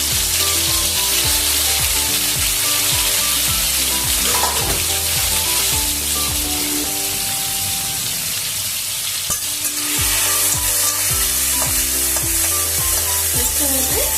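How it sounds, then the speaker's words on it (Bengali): Fish seasoned with salt and turmeric, likely prawns, fried in hot oil in a pan, giving a loud continuous sizzle with stirring scrapes throughout and no talking. "তেলটা গরম হয়ে গেছে এবার আমি মাছটা দিয়ে দিচ্ছি"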